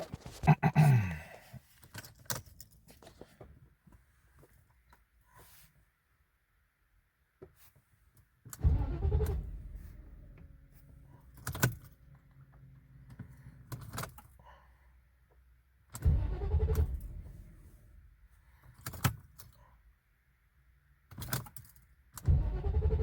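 A Mercedes-Benz W140 S420 in New York: keys jangle, then the engine cranks and catches in several loud bursts between quiet gaps, settling toward idle, heard close with no speech.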